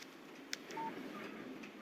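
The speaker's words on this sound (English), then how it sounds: "Text message from Barry." A mobile phone text message alert chimes in the Alan Wake video game on Android, a short bright electronic tone sequence heard faintly and alone.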